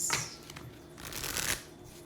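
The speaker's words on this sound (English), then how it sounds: "Shuffle up some cards, just get them warmed up for some readings." Tarot cards being shuffled by hand, two short riffling bursts of papery flicking close up, soft and brief with quiet between.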